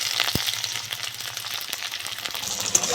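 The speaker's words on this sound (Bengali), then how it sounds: "পেঁয়াজটা একটু ভেজে নেবো" Onions fry in hot mustard oil with whole cumin seeds for a mixed vegetable fry, giving a steady close-up sizzle broken by a few sharp clicks and pops from the pan.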